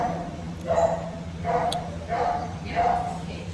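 Dogs at the Soi Dog shelter in Thailand give four evenly spaced short barks or yips at moderate distance, set against a steady low hum and background murmur.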